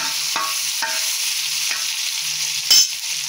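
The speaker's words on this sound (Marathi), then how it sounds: "हा बघा फोडणीमध्ये 1 मिरची असा तुकडे करून घालायचा, टोमॅटो घालायचा बारीक करून।" Mustard seeds, chopped green chilli and finely chopped tomato fry in a hot tempering, giving a steady close sizzle broken by a few scraping stirs of the spoon.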